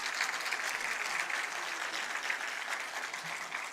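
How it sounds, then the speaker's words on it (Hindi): Audience applause welcoming dignitaries at an inauguration ceremony for the new Uttar Pradesh State Disaster Management Authority headquarters; steady dense clapping from a large crowd, continuous and moderately loud throughout. "एक बार जोरदार तालियों से स्वागत कर लें आप सब।"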